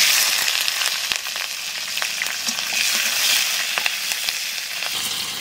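Bay leaves and black cumin seeds sizzling in hot oil in a pan, a loud, steady crackling hiss with small pops, close up and without talk.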